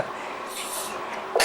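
A single sharp sneeze bursts out at the very end after a stretch of quiet room noise.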